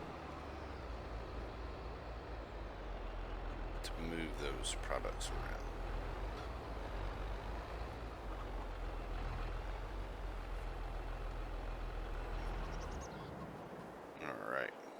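A pickup truck in Farming Simulator 22 on the Elm Creek map gives a steady, low engine drone throughout, with someone talking over it and a couple of brief clicks.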